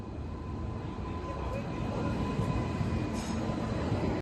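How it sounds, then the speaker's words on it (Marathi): A train at a railway station on a trip from Roha to Goa produces a steady, loud rumble that fills the whole stretch without a break. "ही दुसरी ट्रेन आहे."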